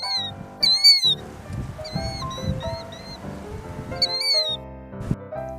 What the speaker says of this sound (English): listen to him call his name